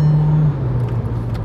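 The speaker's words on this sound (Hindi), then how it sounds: "एग्जॉस्ट की साउंड आती है ना भाई वर्टस जीटी की गाड़ी के अंदर" Volkswagen Virtus GT heard from inside the cabin while driving fast in Delhi, a loud steady engine and exhaust drone with a deep tone that dips slightly partway through the short burst.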